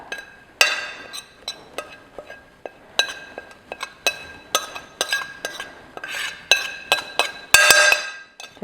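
Irregular clinks and taps of a whisk against a bowl as grated apple and orange rind are mixed, close and crisp, with quiet scraping in the gaps between strikes.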